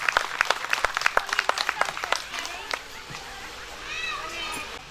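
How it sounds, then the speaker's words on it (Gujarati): Lively crowd applause at a Shiv Puran katha at Nagdevata Mandir in Amreli: dense, close clapping with sharp bursts that fade after a few seconds into softer background chatter and children's voices. "તો તમામને આપણે જોરદાર તાળીઓથી વધાવીએ."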